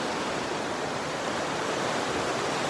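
Rock Creek rushes beneath a bridge at an Eastern Sierra campground, a loud, steady broadband wash of flowing water with no pauses and no voices.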